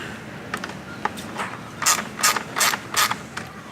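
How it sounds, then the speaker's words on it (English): A T25 Torx ratchet driver backs out the four air cleaner screws on a Mercedes-Benz 4.0L bi-turbo AMG engine, giving quick rhythmic ratcheting clicks that grow louder and come in short repeated bursts up close. "We're using a T25 Torx to remove these 4 screws."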